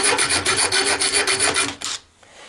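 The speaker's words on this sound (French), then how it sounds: "il va falloir que je prenne la queue de rat et que je lime un peu sur le côté là" Rat-tail file rasping a hole in a part while fitting a Xantia interior into a Citroën Traction 11B, about ten quick rhythmic back-and-forth strokes, close and fairly loud, ending in quiet.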